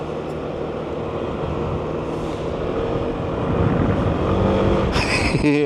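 A scooter's engine drones steadily and loudly as it rides inside an industrial exhibition hall at a motorcycle expo, building slightly toward the end, with a sharp metallic clatter near the finish.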